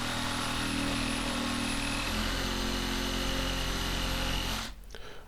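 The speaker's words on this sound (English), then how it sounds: "So repeating, hole first, then the jigsaw." A battery-powered jigsaw cuts through a flat-pack cabinet panel, buzzing loudly and steadily up close for about four and a half seconds, shifting pitch midway, then stopping; no speech.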